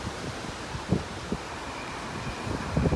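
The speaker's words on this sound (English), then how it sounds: "Oh, it's very windy." Strong wind blows steadily across a microphone outdoors in a garden, a constant rushing broadband roar with a few louder gusts and buffets rising near the end.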